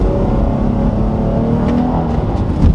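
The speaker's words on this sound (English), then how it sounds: "So let me show you that exhaust note right now." A 2013 Dodge Charger V6 accelerating in first gear out of a corner, its exhaust note a steady, fairly loud engine drone that holds without break from start to finish, with no talking over it.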